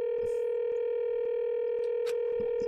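Telephone connecting tone from the Danganronpa 2 video game, a steady sustained hum with faint periodic clicks underneath, continuous and clear with no speech.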